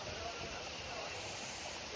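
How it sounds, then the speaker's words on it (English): A waterfall pours down toward a pool at an outdoor attraction, heard as a steady, faint rushing wash of water that stays constant throughout, with no voices. "Waterfall down there, so."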